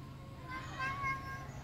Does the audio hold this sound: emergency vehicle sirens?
no